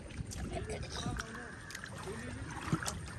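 A rowboat moves across a dam reservoir, with soft water sloshing and faint wind noise while people talk throughout.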